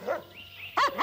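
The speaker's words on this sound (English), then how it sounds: "Dog is guarding its territory, warning everyone off." A dog guarding its territory gives two short, close warning barks, the second louder, with no talk over them.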